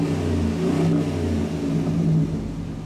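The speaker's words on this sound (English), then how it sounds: "Exhaust system sounds great." A 2005 Dodge Ram 1500 pickup engine revs up twice in quick succession, its deep exhaust note rising and falling, close and fairly loud with no talking.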